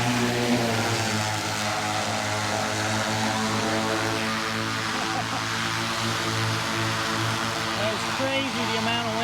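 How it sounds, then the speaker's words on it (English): An agricultural spray drone's propellers drone loudly and steadily over corn, a dense layered whine with strong tonal hum, hovering close by for the whole stretch. "I'm out here where the guys are spraying with their drone"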